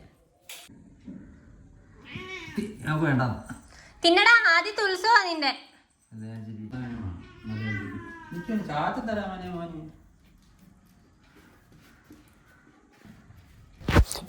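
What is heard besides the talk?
pet cats meowing while being fed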